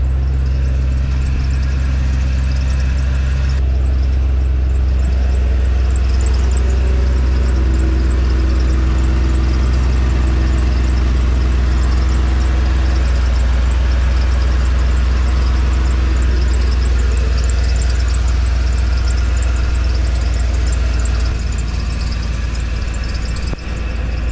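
A Ford F-Series truck engine idles with an exhaust leak, a steady deep rumbling drone with a faint ticking chuff layered over it, close and loud throughout without pause.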